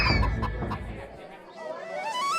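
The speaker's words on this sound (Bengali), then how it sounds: "সব মোরগ মুরগি চারদিকে দৌড়াতে শুরু করে।" Cartoon chickens and roosters clucking and squawking as they scatter and run, a burst of busy clucks at first, then quieter, followed by rising chattering bird calls, with a voice talking over it.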